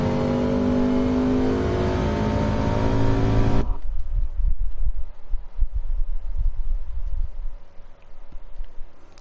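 A race car engine in Gran Turismo 7 holds a loud, steady harmonic whine for several seconds, then cuts abruptly to a lower, rougher rumble with scattered clicks, with no talking.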